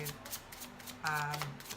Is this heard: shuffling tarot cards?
yes